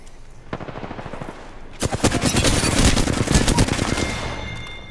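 Gunfire in the video game Apex Legends: sparse shots at first, then a dense, loud burst of rapid automatic fire that rattles on for several seconds before easing slightly.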